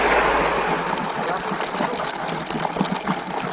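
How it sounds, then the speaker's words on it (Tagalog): Water boils and bubbles vigorously at an outdoor site in Guinsadan, Mountain Province, making a close, continuous gushing, churning sound with faint background voices. "yan po ay tunog ng pagkulo ng tubig"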